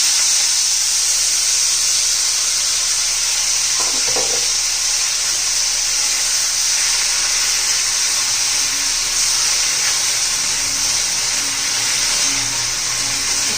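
Spinach hits hot oil seasoned with cumin and salt in a pan, giving a loud, steady sizzle and hiss that holds throughout with only faint stirring clinks, no talk.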